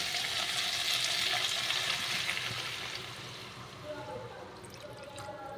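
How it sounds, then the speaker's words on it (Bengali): Water poured into a pan of frying fish curry made with catla fish, potato and cauliflower, a loud hissing sizzle at first that softens and settles into a quieter bubbling. "আমি এবার একটু জল দিয়ে দেবো।"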